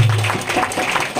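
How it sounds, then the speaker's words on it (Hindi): Brief burst of applause from a church congregation during a Sunday worship service, a dense broadband patter of many hands lasting about a second. "जोरदार तालियां बजाएंगे"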